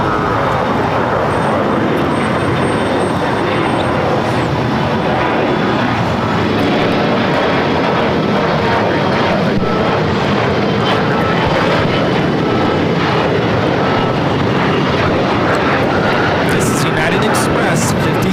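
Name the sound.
Embraer E175 jet taking off at LAX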